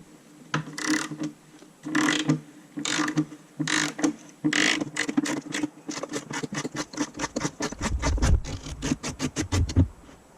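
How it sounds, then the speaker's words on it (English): Ratchet with a 32mm socket working the rear axle nut loose on a 2011-2024 Suzuki GSX-R 600/750, heard close as bursts of scraping effort followed by a fast, even run of ratchet clicks. "the first step is going to be able to loosen the axle nut. It takes a 32mm socket"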